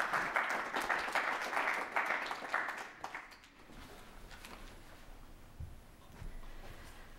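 An audience at a poetry reading in a campus hall claps to welcome the readers, the applause warm and steady for a few seconds before fading into quiet room murmur and shuffling.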